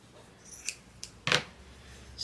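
Scissors cutting a quilting fabric strip in half, heard as a few short, crisp snips close by, the last one loudest, with no talking.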